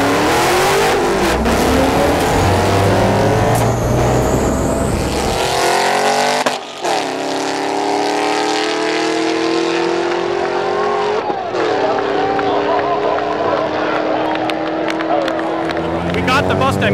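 The White Zombie, a 1972 Datsun electric drag car, races a Mustang down a drag strip. Loud engine roar and whine rise and shift through gear-like steps, with crowd noise and an announcer talking over the race.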